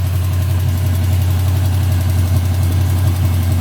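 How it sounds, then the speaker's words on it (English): A Luhrs 28 boat's marine engine idles close by in a steady, even, low rumble with a slight knocking vibration, running alone without talk. "Listen to the motor run."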